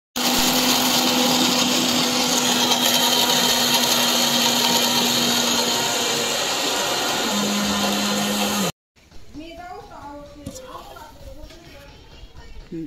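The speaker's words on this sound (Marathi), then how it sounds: "तर याप्रमाणे आता आम्ही सगळं मिक्सरला बारीक करून घेतोय." Kitchen mixer grinder grinding prasad ingredients, a loud continuous motor whine running about nine seconds with a slight drop in pitch near the end, then stopping abruptly before someone talks amid light kitchen sounds.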